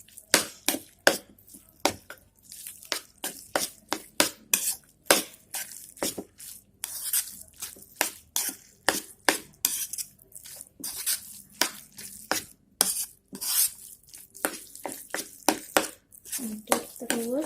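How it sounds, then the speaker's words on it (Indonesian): Tofu meatball filling stirred in a bowl, with a rapid series of wet, squishy slaps and taps from the spoon in a quick, uneven rhythm, close and fairly clear. "Aduk terus sampai benar-benar merata."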